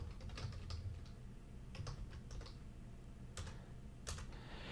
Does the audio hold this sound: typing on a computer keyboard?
yes